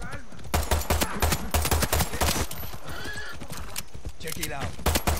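A horse whinnies and its hooves clop in a Far Cry 6 video game, with bursts of rapid gunfire and a voice speaking between the loud, choppy sounds.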